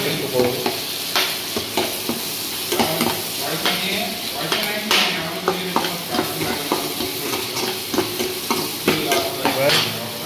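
Chili chicken with ginger stirred steadily in a frying pan, village style: loud continuous sizzling with a rapid, regular rhythm of spatula scrapes and clatters up close.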